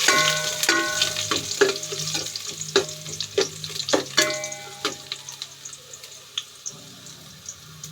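Ginger frying in cooking oil for balbacua, a close sizzle broken by sharp clinks and scrapes of stirring that ease off toward the end, with no talk.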